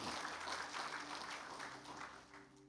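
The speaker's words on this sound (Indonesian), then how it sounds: "Tepuk tangan yang dahsyat buat Tuhan." A congregation applauds during a GBI Sport Centre church worship service. The clapping is steady and sustained, with a held musical tone underneath.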